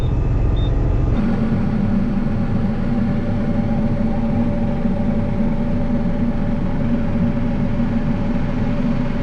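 A truck engine runs and rolls across a farm at corn harvest, a steady loud rumble that swells after a brief opening and holds close and even throughout, with no talking.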